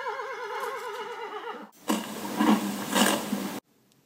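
A horse in a pasture at a stable whinnies at feeding time, a wavering neigh lasting over a second, followed by a loud burst of rough snorting and blowing close by that stops abruptly.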